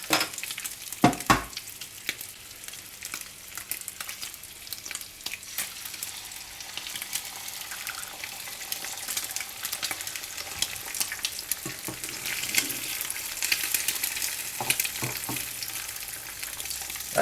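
Wagyu beef bacon frying in its own rendered fat in a pan over medium heat, a steady soft sizzle with scattered crackles and pops, close and continuous with no voices.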